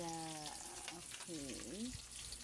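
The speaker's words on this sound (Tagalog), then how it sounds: "nagpiprito na ako ng isda" Fish frying in a pan for sweet and sour fish, giving a steady broadband sizzle throughout with a person's voice talking over part of it.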